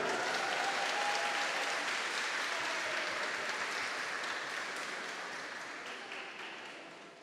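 Audience applause at a formal awards ceremony in Rio de Janeiro, a dense, sustained clapping from a large crowd that holds steady and then slowly fades toward the end, with no voices over it.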